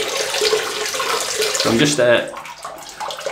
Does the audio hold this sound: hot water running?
yes